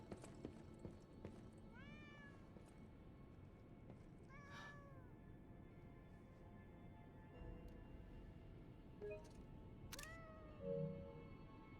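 A house cat meows several times in the video game Lies of P, short rising calls spaced apart over a low, steady background hum, with one faint extra mew near the end.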